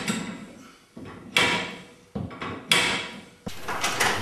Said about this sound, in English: Check the garage door for balance.